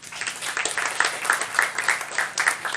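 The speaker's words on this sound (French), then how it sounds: "Sous vos applaudissements, s'il vous plaît." An audience at a seminar presentation applauds in a brief, steady burst of clapping at moderate volume.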